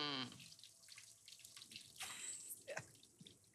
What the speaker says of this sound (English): Next, some warm beef stock.